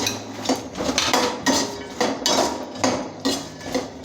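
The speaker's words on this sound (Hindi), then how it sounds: "गोंद को निकालने के बाद हम इसमें ये मखाने डाल के इन्हें भी भून लेंगे" Fox nuts roasting in oil in a pan, with a spoon rhythmically scraping and clanking against the metal roughly every half second, loud and close.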